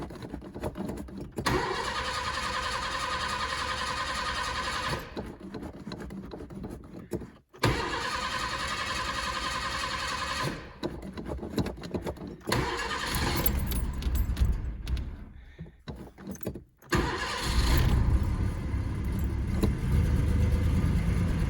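A Volkswagen Fox's engine cranks in repeated attempts with pauses between them, then catches and runs, ending in a louder idle close by. Keys jangle near the start.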